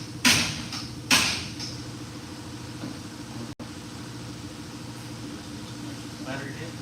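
A Mustang engine idles steadily just after starting, a low continuous drone with a couple of sharp clanks near the beginning and no talking over it.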